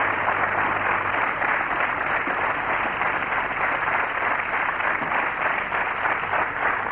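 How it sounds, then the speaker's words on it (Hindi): A television quiz-show studio audience claps in sustained, dense applause that stays loud and even throughout, with no pauses. "जरा ताली बजाते रहेंगे तो इनके हौसले बुलंद रहेंगे"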